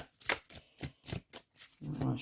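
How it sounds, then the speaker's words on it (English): Tarot cards being shuffled in several quick riffling bursts separated by short pauses, close and fairly quiet, ending in a longer softer rustle. "I want to shuffle this to death,"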